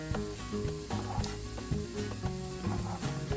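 Vegetables softening in a few tablespoons of olive oil in a pot over low heat, giving a steady close sizzle with occasional stirring clinks throughout, no voices.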